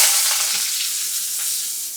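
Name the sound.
cinnamon and cloves sizzling in hot oil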